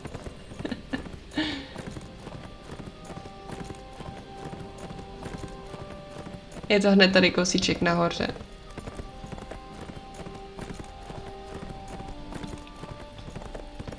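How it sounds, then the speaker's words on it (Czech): Horse hooves clip-clop in a steady rhythm in the Horzes 3 video game, moderately loud and continuous under a person talking, with a brief whinny in the middle. "Nasednem na koníka, i když je to kousíček, tak přesto na tom koni je to rychlejší."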